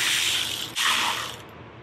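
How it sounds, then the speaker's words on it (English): A ratchet with a 10 mm 12-point socket clicks quickly and continuously, close up, while loosening a caliper bolt on a 2009 Harley-Davidson Street Glide, with a brief pause midway. "we're gonna take the caliper bolt off"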